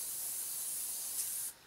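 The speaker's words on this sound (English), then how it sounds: "Now, I've said need just a quick spray of the top." Quick airbrush top coat on a Revell 1/48 Junkers Ju52/3m model kit, a single short steady hiss that cuts off abruptly after about a second and a half.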